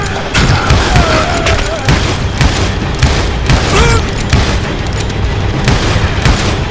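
Gunfire rings out in dense rapid volleys, with loud booming shots and crackling bursts overlapping continuously. Whistling ricochets cut through, and a voice speaks faintly beneath the barrage.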